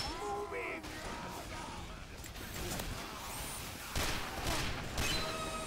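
Rapid gunfire from a team-based first-person shooter as shots land on an enemy heavy, dense crackling bursts in a busy battle mix with faint distant shouts and a few louder impacts near the end.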